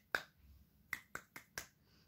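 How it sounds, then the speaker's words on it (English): One hand clapping alone in a quiet room: five soft, sharp slaps, the fingers striking the palm in a loose, uneven rhythm, each close and dry with a quick decay. "Clapping with one hand"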